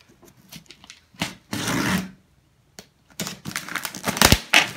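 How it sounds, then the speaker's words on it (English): A cardboard box containing advance copies of a book is sliced open, giving bursts of scraping, crinkling cuts and rustling packing material, with brief pauses between strokes, close and moderately loud. "let's cut this box open"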